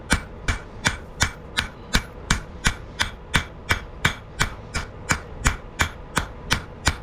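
Loud, close hammer blows ring out on hot metal as a rasp is forged into a tomahawk, in a steady, even rhythm, roughly two to three strikes per second, with no talking.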